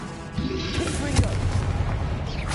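A Confringo explosion spell goes off in Hogwarts Legacy, a dull booming blast with a crackling burst that sustains for a couple of seconds amid busy game audio.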